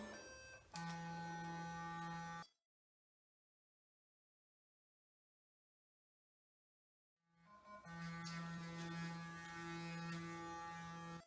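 Clarisonic electric facial cleansing brush buzzing close by with a steady high-pitched whine, running for about two seconds, going silent for roughly five seconds, then starting up again and running to the end.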